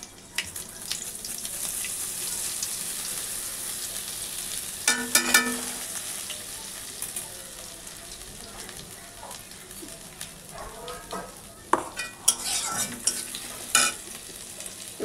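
Dried red chillies, panch phoron spice mix and ginger hit hot oil in a home kitchen, giving a steady soft sizzle and crackle with bursts of stirring and spoon scrapes.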